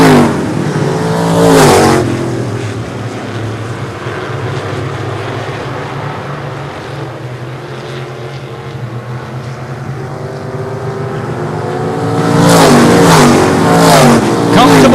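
Super modified race cars roar past on a short oval track, engines loud and close at the start and again near the end, with a steadier drone of cars in between and a commentator talking over it.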